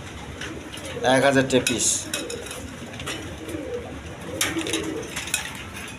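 Female pigeons kept in pairs coo softly in low, rolling phrases while someone talks nearby, their calls partly under his voice.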